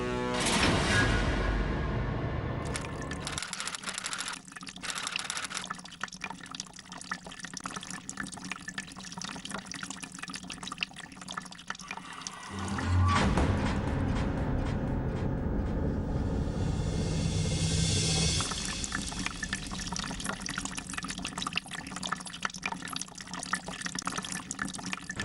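Water runs steadily from a tap in a domestic setting, a continuous broadband splashing that drops in level midway and then surges louder again, with no voices over it.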